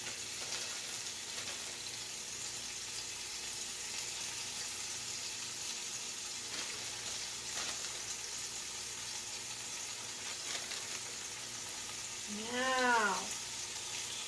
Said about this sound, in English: I'm going to fry it. And I'm going to fry this.